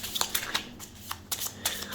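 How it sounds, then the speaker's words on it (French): Cards from the visitor deck of the This War of Mine board game are handled and drawn, a quick series of soft, close papery flicks and slides in an irregular rhythm. "Donc on va tirer une carte visiteur."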